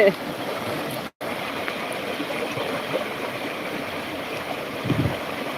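A cold mountain river flows in a hillside village setting, a steady broadband rushing and gurgling that stays constant for several seconds, with a brief dropout near the start and no clear talking.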